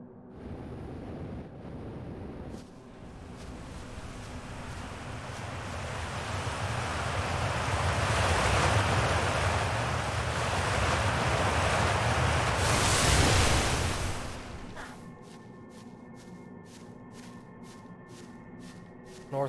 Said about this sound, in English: Why am I getting water sound effects?